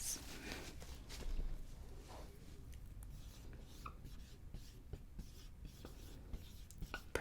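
Pen or pencil writing out a word on paper, a steady close scratchy rasp of strokes with short pauses between letters, heard alone without talk.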